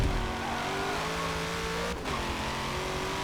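A race car engine in the video game Forza 7 drones loudly and steadily through a lap, briefly dipping at a gear shift before climbing again.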